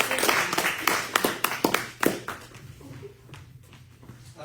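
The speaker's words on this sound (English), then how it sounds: "Let's give John a big round of applause." An audience gives a short round of applause that starts strong and thins out after a couple of seconds, trailing off into a few scattered claps.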